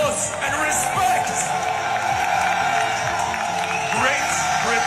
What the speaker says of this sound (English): Give them a round of applause and respect.